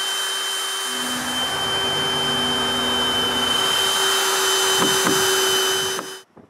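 A power screwdriver drives screws into patio wood, a steady high motor whine with rising and falling tones, running close and continuously before stopping abruptly.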